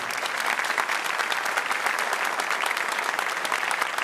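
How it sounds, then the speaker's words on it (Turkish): An audience at a Turkish classical music performance gives steady, dense applause, an even wash of many hands clapping at a moderate distance with no voices over it. "Alkışlarınızı ona rica ediyorum."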